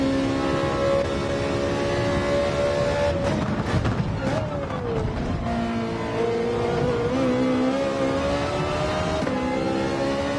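A car engine in Gran Turismo 7 revs loud and close, its pitch climbing and shifting through the gears over a continuous roar, with a voice talking over it.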